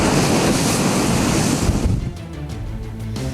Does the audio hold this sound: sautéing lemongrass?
no